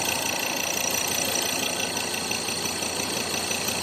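A running Ford Ranger 3.2 pickup truck engine with an odd noise gives off a steady, dense rattling whir with a faint ticking texture, constant and unchanging throughout.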